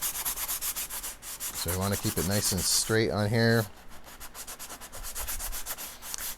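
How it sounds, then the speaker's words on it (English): Rhythmic rasping strokes of a sanding block rubbing over a black limba wood guitar headstock, close by, with a person speaking briefly partway through. "try and use this sanding block"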